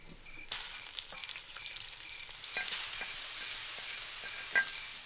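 A frog dish frying in a pan gives off a steady, close sizzle, with a few sharper crackles and stirring scrapes breaking through and no voices.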